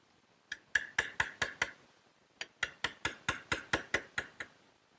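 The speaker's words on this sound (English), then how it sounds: "I'll clean it up with a sharp chisel." A sharp chisel cleans up a hinge mortise in wood for a dressing table. About thirteen crisp, close taps come in two quick bursts separated by a short pause.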